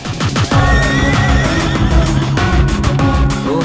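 Horse neighing from a Hindi-dubbed South Indian film, a loud whinny with harmonic calls rising and falling over a dense music-like background, continuous for several seconds without speech.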